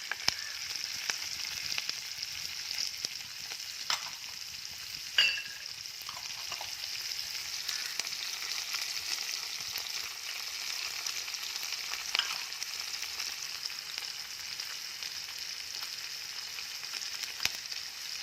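Onion frying in hot oil with green chili and curry leaves for rava upma, giving a steady, close hiss and crackle that carries on unbroken with a few faint clicks.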